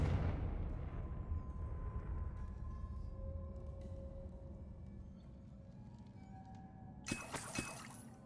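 A Confringo blasting spell from Hogwarts Legacy bursts with a heavy boom, then rumbles away over several seconds into shimmering, ringing debris, with a sharp crackle of breaking fragments near the end.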